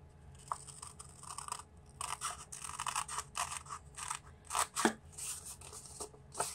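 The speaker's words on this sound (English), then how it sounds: "sometimes it's easier to control your scissors by just cutting off little pieces at a time" Scissors cutting paper to shape a valentine heart, a series of quiet, close snips in small irregular bursts with short pauses between cuts.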